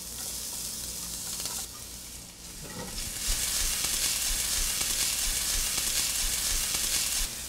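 Minced shallots and a couple of garlic cloves sizzle steadily in a pan of hot oil, a continuous bright crackle that swells louder partway through and holds near and even, with no voices.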